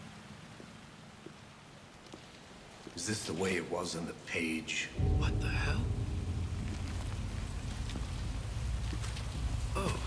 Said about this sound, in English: I do like the rain though. The rain is cool.